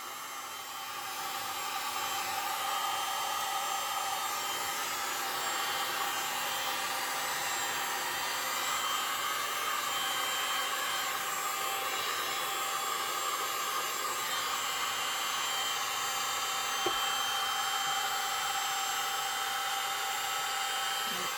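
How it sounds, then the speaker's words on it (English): A heat gun runs steadily over a resin pour on canvas, giving a continuous broadband whoosh that holds at a constant level for the whole stretch, with a brief click near the end and no talking. "you want to start your heat gun and have it away from the canvas"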